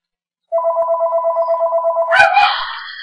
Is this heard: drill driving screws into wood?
no